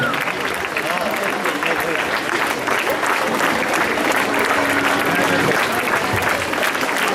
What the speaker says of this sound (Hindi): तालियां ऐसी हो कि महफिल में जान आ जाए